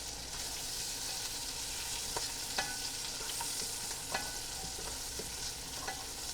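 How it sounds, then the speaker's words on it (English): Minced garlic, about three cloves, sizzling steadily in a hot pan for Southern pinto beans, with a spoon scraping and stirring through it at intervals; close and continuous, no voices. "And we're just going to cook this and keep stirring. We don't want that garlic burning."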